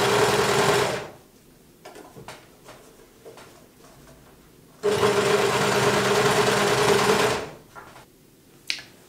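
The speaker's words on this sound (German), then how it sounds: "kann ich mit der Overlock-Nähmaschine hier einmal nochmal rundherum die Naht versäubern" An overlock serger finishes the seam of a girl's sweatshirt-fabric skirt in two steady whirring runs, one brief and one longer, with quiet clicks and fabric handling in the pause between.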